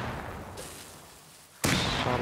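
During a Rust raid on a base, a quiet rumbling stretch gives way to a sudden loud blast about one and a half seconds in, its roar carrying to the end, with a smaller thud earlier.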